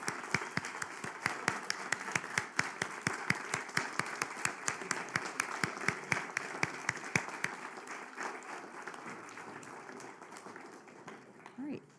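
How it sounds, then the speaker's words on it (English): An audience applauds at a public hearing and budget adoption meeting, a steady crowd of claps heard from a moderate distance that thins out and fades over about twelve seconds. "One last round of applause for everybody who achieved 25 years."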